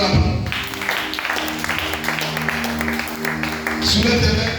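A congregation at a French-language prayer service applauds together, a steady wash of clapping under sustained music and voices that runs throughout and swells slightly at the end.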